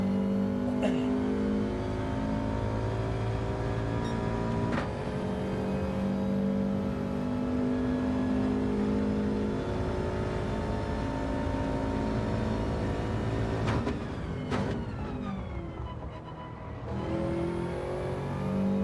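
Race car engine in Gran Turismo 7 revving steadily through gear changes, harmonic whine climbing and dropping, with a sharp lift-off and throttle blip near the end; loud and continuous, no talking.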